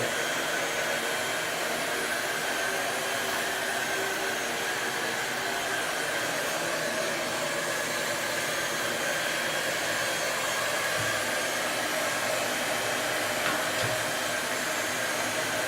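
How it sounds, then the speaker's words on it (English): Hot air tool blowing steadily on wallpaper, a continuous close whooshing hiss of airflow with a faint motor whine, holding an even level throughout. "I'm heating up the wallpaper in this area."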